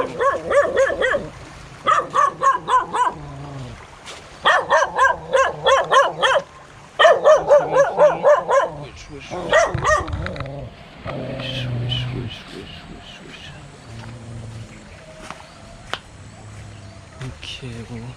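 A dog barks in repeated rapid bursts from the middle of a road in Indonesia, loud and close, with quieter street sounds and a brief voice after the barking stops.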